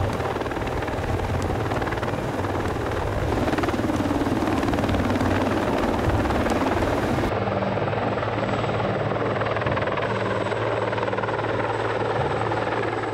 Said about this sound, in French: Lors des transports héliportés, le FLG 140 est accroché au point d'ancrage spécialement prévu à cet effet.